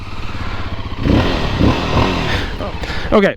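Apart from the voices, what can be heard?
Voge 300 Rally motorcycle engine starting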